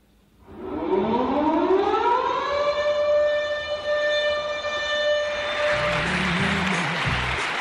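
Air raid siren winding up from a low growl to a sustained loud wail, holding steady for several seconds before breaking off into a rush of noise with some low thumps.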